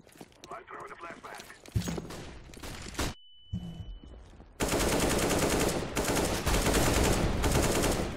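Sustained automatic gunfire in the CS:GO video game, loud and close. Scattered shots come first, then a long continuous burst fills the second half.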